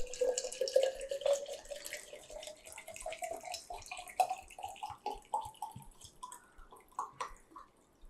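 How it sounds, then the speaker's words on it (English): Clean RO water trickles and drips into a hydrogen water machine as it fills, a faint, uneven patter of splashes and droplets. "Water, RO water, clean water is filled in."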